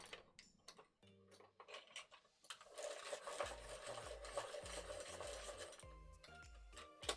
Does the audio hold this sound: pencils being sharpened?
yes